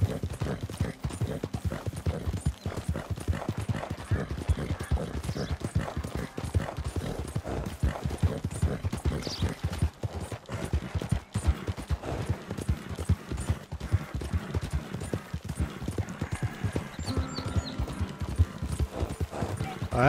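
Steady, rapid clip-clop of horse hooves in the video game Red Dead Redemption 2, continuous and even-paced for the whole stretch, with faint background game ambience.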